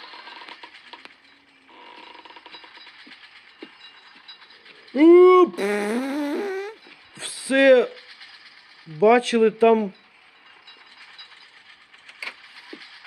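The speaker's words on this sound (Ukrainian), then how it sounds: "Так, це принтер, він друкує око." Printer mechanism printing an eye in the Roblox game Eyes, steady ratcheting, gear-like mechanical clicking that runs throughout with a few louder bursts, close, under brief talk.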